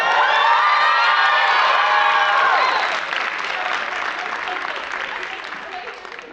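A school choir concert audience gives loud, sustained applause mixed with cheers and whoops. The sound is dense and close at first, then eases to steadier clapping.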